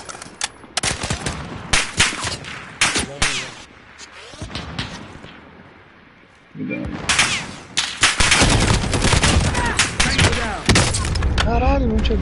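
Gunfire in a shooter video game as the player takes hits, rapid bursts of automatic fire and sharp shots, a quieter lull, then heavy, dense shooting, with players talking over it.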